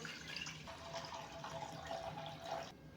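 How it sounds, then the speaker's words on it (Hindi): About a litre of water, roughly four glasses, pours steadily into a kadhai set on a medium flame for daal mash, a soft continuous splashing stream that stops abruptly near the end. "अब इसमें नाप के मैं 1 लीटर तकरीबन 4 गिलास ये पानी डाल दूंगा।"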